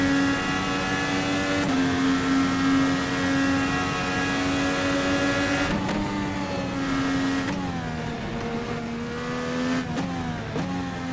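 Engine of the VRC Formula NA Indycar in the rFactor 2 racing sim, a loud, steady high-pitched drone with sharp drops and rises as gears shift, holding close and continuous throughout.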